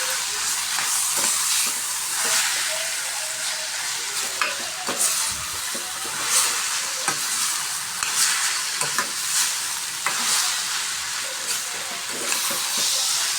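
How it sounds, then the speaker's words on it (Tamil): Raw mango and onions sauté in a hot pan with a steady, loud sizzling hiss, while a spoon stirs and scrapes through them in repeated light strokes up close. "இதை நல்லா வெங்காயத்தையும் நல்லா மிக்ஸ் பண்ணிக்கலாம்."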